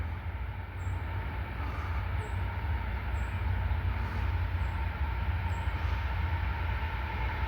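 A long double-stack container freight train rolls steadily past, a continuous broadband rumble of wheels and cars with no breaks, heard from trackside with no talk.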